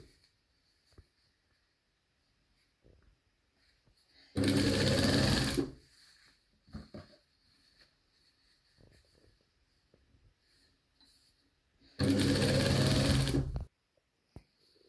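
A sewing machine stitching fabric for a recycled handbag, two separate loud bursts of rapid whirring stitching about a second or so long each, separated by quiet pauses with faint handling sounds.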